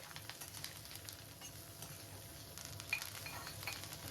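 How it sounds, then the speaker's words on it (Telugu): Three slit green chillies, with curry leaves, fry lightly in a pan with a faint, steady sizzle and occasional small clinks of stirring. "పచ్చిమిర్చి అయితే ఒక మూడు వేసుకుంటున్నాను ఇవి కూడా లైట్గా ఫ్రై అవనివ్వాలి"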